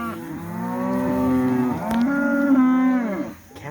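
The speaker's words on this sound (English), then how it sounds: "Cows are vocal, aren't they?" Cattle moo loudly and close during a cattle drive, two long drawn-out bellows following one another with a brief break between them, and no talking.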